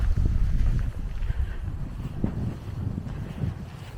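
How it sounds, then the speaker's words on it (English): Warm wind blowing past a microphone on a walk along overgrown paths, a steady low rumbling buffet with gusty surges, fairly loud and continuous with no talking. "the wind's picked up a little bit, which is nice, apart from it's warm wind"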